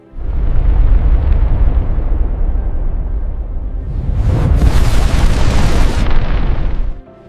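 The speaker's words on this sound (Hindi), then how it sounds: "धमाका।" A deep, sustained explosion of an asteroid impact roars continuously, swelling into a louder, brighter blast of rumbling debris before cutting off abruptly.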